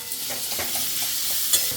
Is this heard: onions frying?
yes